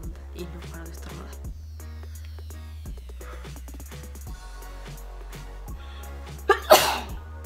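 After a quiet stretch of faint clicks and room hum, one person lets out a loud, close sneeze near the end, with a short catch of breath just before it.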